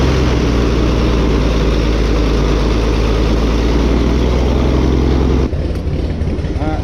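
An engine on an abandoned Baron aircraft runs loudly and steadily close by, a dense low rumble that cuts off abruptly near the end, leaving quieter noise.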